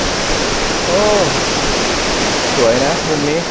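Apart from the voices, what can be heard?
waterfall at Phlio waterfall viewpoint, Chanthaburi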